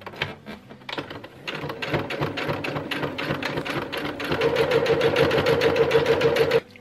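A sewing machine runs at close range on a long stitch length, gathering thick fabric, its needle chattering in rapid, even bursts that build to a steady run before stopping.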